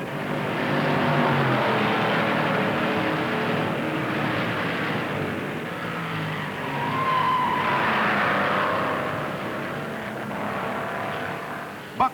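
1958 NASCAR stock cars racing in the Southern 500, a continuous roar of engines that swells and fades as cars pass at a distance.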